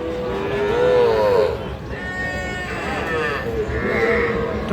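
At a cattle market, a young bull calf moos loudly and close several times in a row, with livestock-market background noise underneath.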